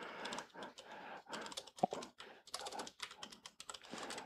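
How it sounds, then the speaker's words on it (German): Fingers type quickly on a computer keyboard at close range, producing dense, irregular bursts of key clicks with short pauses between runs. "Also man tippt sich da schon ordentlich die Finger wund"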